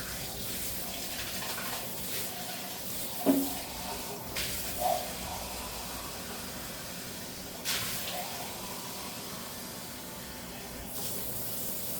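Water runs steadily from a tap as a continuous hiss, with a few soft clunks and knocks of handling at the sink.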